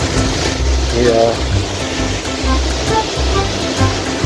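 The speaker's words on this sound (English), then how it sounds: "arriving at the 35 meters high waterfall, which is Caled Carantario or Capua" The 35-metre-high Capua waterfall near Yura, Arequipa, Peru, roars as a steady, loud broadband rush of falling water, with faint voices beneath it.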